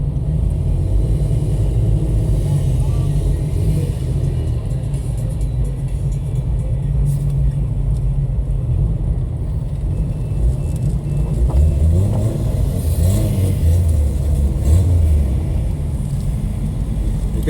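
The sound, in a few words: big off-road vehicle engine revving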